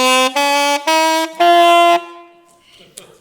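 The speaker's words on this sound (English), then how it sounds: "So what does it sound like if I blow into my saxophone the wrong way?" Saxophone blown incorrectly, giving four harsh, buzzy honking tones in a short stepped sequence, loud and close, then trailing off into quiet room noise.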